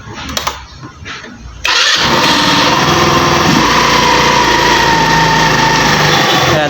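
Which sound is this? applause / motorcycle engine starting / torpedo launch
motorcycle engine starting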